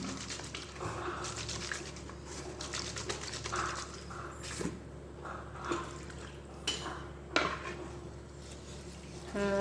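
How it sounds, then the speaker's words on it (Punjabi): A plastic water bottle holding a cleaning mixture is shaken, giving soft sloshing and splashing with occasional light clinks and sharper knocks, fairly quiet and close. "ਤੇ ਆਪਾਂ ਇਹਨੂੰ ਵੀ ਇਹਦੇ ਵਿੱਚ ਪਾ ਕੇ ਚੰਗੀ ਤਰ੍ਹਾਂ ਆਪਾਂ ਨੂੰ ਸ਼ੇਕ ਕਰ ਦਾਂਗੇ"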